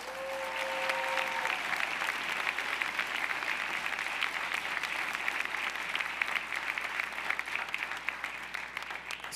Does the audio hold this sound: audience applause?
yes